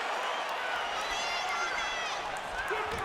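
A UFC arena crowd roaring and murmuring in waves as fighters trade strikes, a dense continuous wash of cheering under commentary talk.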